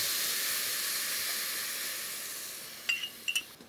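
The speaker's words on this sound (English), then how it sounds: "Now that immediately comes up to a simmer." White wine simmering hard in a hot pan, a steady close hiss and sizzle that slowly fades, ending with a few light metallic clinks of a utensil on the pan.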